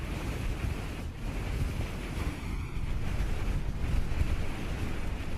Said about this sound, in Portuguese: A meio da tarde, o vento começa a soprar